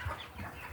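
Cornish Rock cross meat chickens in a flock near the end of a six-week raising period give short, close clucks in a brief burst with no talk.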